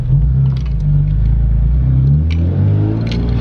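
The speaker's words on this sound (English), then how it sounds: "just taking a ride in Marco's Z just to see how it feels" Cabin rumble inside Marco's Z car on a test ride after a big brake kit install, a loud steady low engine drone with mild revving swells, no voices.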